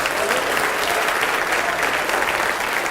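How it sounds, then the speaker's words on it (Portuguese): Church congregation applauding during a sermon, a thick, continuous burst of many people clapping, loud and even throughout the short stretch with no voices on top. "Vamos aplaudir mais ao nome de Jesus"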